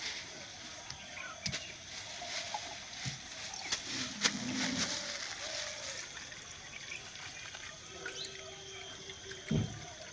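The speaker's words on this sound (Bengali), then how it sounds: "উপরের জলটা এবার ফেলে দেব, খুব সাবধানে ফেলতে হবে।" Water is carefully poured off settled homemade corn starch, a faint, steady trickle and splash running close by in a quiet kitchen with soft handling noises.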